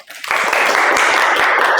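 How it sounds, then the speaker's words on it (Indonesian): Students in a university classroom applaud a classmate named Caca: a burst of clapping starts suddenly after a brief quiet and continues, loud and dense, to the end. "Tepuk tangan untuk Caca."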